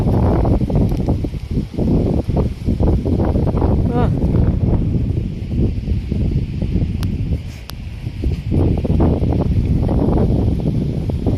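Strong, freezing wind gusts steadily into the microphone outdoors near a lone windmill, a loud continuous rumble with a person's brief exclamation over it.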